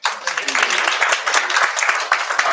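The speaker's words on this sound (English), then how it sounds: "Please clap for us." An audience at a business event applauding, dense steady clapping close by that starts suddenly and carries on at an even level, with voices mixed in.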